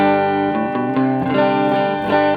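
An electric guitar played through a LEKATO B-Breaker pedal set with no drive gives a clean, slightly dull sustained tone, with a few picked notes and chords ringing out loud and alone.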